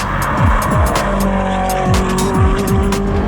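A Koenigsegg accelerating hard with tire squeal, the engine rising through quick gear changes in a repeated climbing pattern while the tires screech, loud and close from inside the car.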